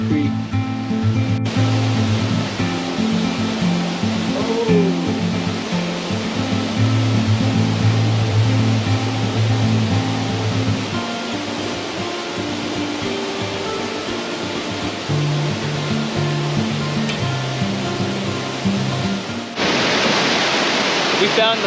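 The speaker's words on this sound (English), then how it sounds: "We found the falls and the pool that they were talking about." A waterfall pours steadily into a clear creek pool in British Columbia, making a loud, continuous broadband rush from nearby that holds unbroken for the whole stretch, with a brief shift in tone near the end.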